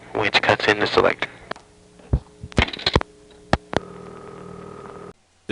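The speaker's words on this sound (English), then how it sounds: "Dialed 8, which cuts in the selector." Step-by-step telephone exchange switching equipment with a second selector cutting in after the digit 8 is dialed: a burst of mechanical clattering and ratcheting clicks, then isolated sharp clicks over a faint steady hum.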